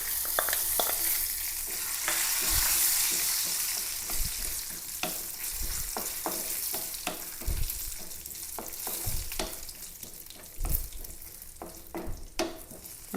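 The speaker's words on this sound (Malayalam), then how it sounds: "അണ്ടിപ്പരിപ്പ് ഒന്ന് നെയ്യിൽ എടുത്തിടാ വറുത്തിടാട്ടോ" Cashews fry in ghee with a steady sizzle that gradually softens, broken by scraping and tapping as a spoon stirs the pan.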